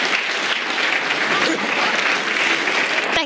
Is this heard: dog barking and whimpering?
no